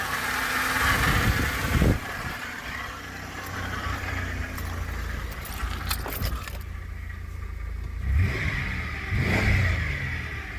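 A 2006 Pontiac Grand Prix engine cranks, catches and revs up a couple of times, with a jingle of keys near the start.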